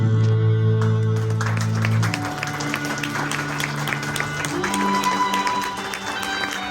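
Wedding guests clap steadily through a hall as the bride's entrance begins, sustained crowd applause with sharp nearby claps, preceded at first by a held musical tone that fades out.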